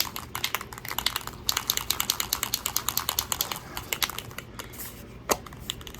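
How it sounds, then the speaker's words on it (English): A rapid, steady metallic rattling repeats for several seconds, the clatter of a can of black spray paint being shaken close up, ending with a sharper knock. "black spray paint. And we'll shake it up."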